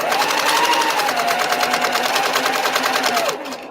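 Sewing machine stitching a quilt close up, a loud, steady rapid needle rhythm running for about three seconds before slowing and quieting at the end.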